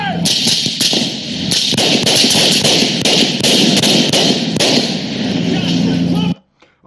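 Gunshots during a police pursuit of a shooting suspect in Raleigh, a rapid series of loud, sharp cracks and thumps close by over several seconds, under shouted voices, before cutting to sudden quiet.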